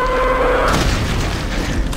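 A gunshot in the Brutal Doom video game: one loud, booming blast at the start with a rumbling tail that fills the rest, alone with no talking over it.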